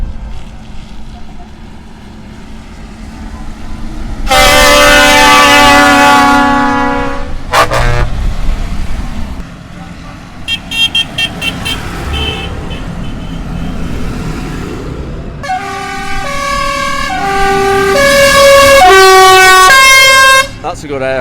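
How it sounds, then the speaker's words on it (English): Air horns sound from tractors lining up for a Young Farmers charity Christmas tractor run, with several long, loud harmonic blasts, including a stepped multi-tone horn near the end, over engine rumble and background talk. "That's a good air horn."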